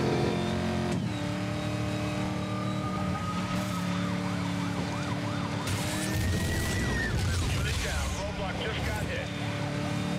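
Police sirens wail and sweep in pitch during a chase in Need for Speed Most Wanted (2012) while a Dodge Challenger is driven, layered over steady engine and road noise with a voice talking throughout.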